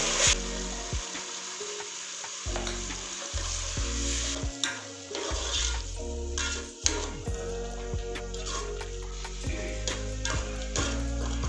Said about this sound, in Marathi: वाटण चांगलं तेलामध्ये परतून घ्यायचं आहे कांद्याबरोबर.